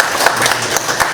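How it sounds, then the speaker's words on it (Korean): Dense applause from an audience at a policy forum in an Andong arts center conference hall on heavy metal pollution of the upper Nakdong River, a continuous close wash of clapping. "박수 한번 부탁드리겠습니다"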